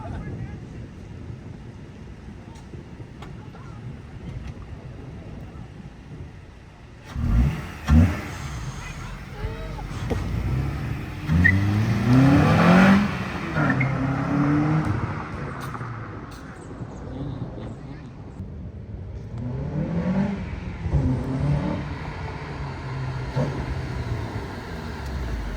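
9th gen Honda Civic Si with a new intake, its engine revving in a couple of loud surges that swell and fade over a steady outdoor rumble, with wind noise and people talking.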